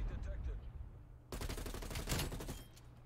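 XM4 assault rifle in the video game Call of Duty Black Ops Cold War fires a loud burst of rapid automatic shots that starts abruptly partway through and lasts over a second.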